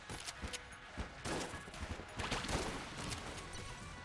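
Rapid repeated gunshots spammed in the roguelike shooter Enter the Gungeon, a dense, continuous patter of small crackling shots layered over busy game noise, moderately loud throughout.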